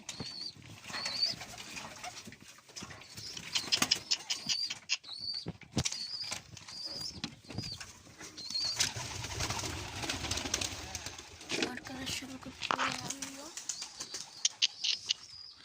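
Pigeons coo and flutter their wings nearby in bursts, with creaking and scattered movement noises throughout.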